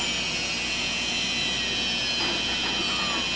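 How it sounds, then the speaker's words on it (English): Quadcopter motors driven by their ESCs at full throttle, giving a loud, steady, high-pitched electric whine with several tones layered close up, holding constant for the whole stretch. "ESCs power up all the motors all the way full throttle"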